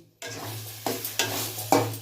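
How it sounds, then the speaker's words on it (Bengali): A spatula stirs and scrapes through a sizzling pan of roasted spice powder (cumin, coriander, dried red chilli and fennel) for aloo dum, giving four close scraping strokes over a steady hiss, with no one talking. "তাহলে চলো আর ভালো করে নেড়ে নিই"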